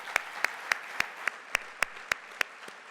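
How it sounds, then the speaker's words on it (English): Another round of applause at a marketing and operations summit, heard as sparse, regular, crisp single claps about every quarter second, fairly faint and alone. "How about another round of applause for them?"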